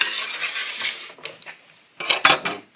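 A metal file scrapes in short rasping strokes along a snowboard's steel edge, a few in a steady run, then a pause and two louder, sharper passes close by.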